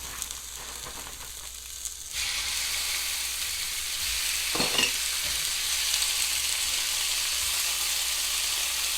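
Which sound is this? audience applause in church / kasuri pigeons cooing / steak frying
steak frying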